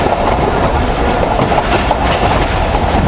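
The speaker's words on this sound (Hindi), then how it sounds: "ट्रेन हमारे दरमियान है। चनाब को स्किप करने के लिए तेज़ी से आगे बढ़ रही है।" Millat Express passenger train running fast toward the Chenab bridge, a loud, steady rumble of wheels and carriages with continuous rattling clatter throughout, no pauses.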